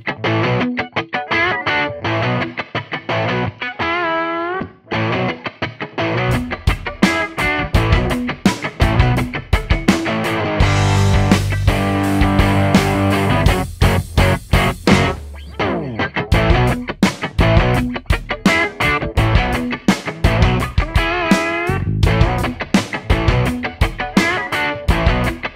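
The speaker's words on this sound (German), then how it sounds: "Probieren wir es hier jetzt auch nochmal aus, die Gitarre ohne Hallgerät und dann mit." Electric guitar played dry at first and then through a reverb unit. The strummed and picked chords run dense and continuous, and the later notes swell into a sustained, washed tail before the rhythmic playing returns.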